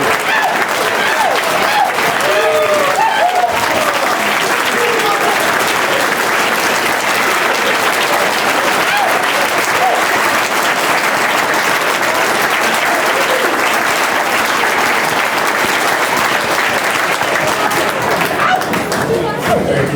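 Standing ovation at a marching band award banquet, loud sustained clapping from a large crowd with cheers mixed in, unbroken from start to finish.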